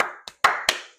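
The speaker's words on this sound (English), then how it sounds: "A lot of clapping happening down here." Sharp hand claps at an NBA draft event, four separate close claps in uneven rhythm with brief ringing decay after each, heard alone.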